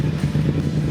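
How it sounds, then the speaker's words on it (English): A Yamaha FZ-07 motorcycle engine idles while warming up, a close, steady low-pitched throb with a regular pulsing beat and no voices over it. "go ahead and let the engine warm up"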